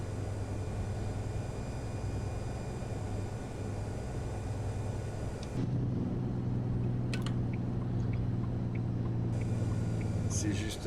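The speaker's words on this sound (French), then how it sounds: "Je vous laisse écouter le son un peu du tracteur parce que franchement ça déboîte." An American truck tractor in Europe runs with a deep, steady engine drone that grows fuller and louder partway through, heard up close with a few faint clicks toward the end.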